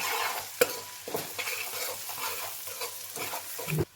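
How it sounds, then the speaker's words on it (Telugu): Turmeric being stirred into a Telangana-style curry in a pan, repeated scraping and clinking of a spoon over a low sizzle, with a sharper knock near the start and another near the end. "పసుపు కూడా మంచిగా కలుపుకోండి"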